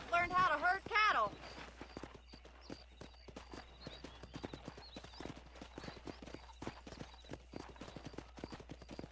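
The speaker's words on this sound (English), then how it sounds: "let's mount these horses and help Bonnie out with these cows." Horses in Red Dead Redemption, with hooves clip-clopping in a brisk, uneven rhythm on dirt at a cattle ranch, preceded by a loud whinny at the start, moderately close and continuous.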